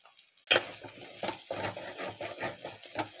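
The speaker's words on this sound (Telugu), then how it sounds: "బాగా వేయించుకోవాలి చేసి పెట్టిన పేస్ట్ని. మసాలా పచ్చి వాసన పోయేంత వరకు వేయించుకోవాలండి" Masala paste frying in a pan for a Telugu pesara pappu aratikaya curry, with steady close sizzling and scraping stirs that start abruptly and keep pulsing in short bursts.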